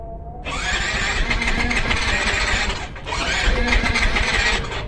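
A stalled GT 125 scooter that has been through a flood is cranked and kicked without firing. Two long, loud grinding bursts come one after the other with a brief gap between them.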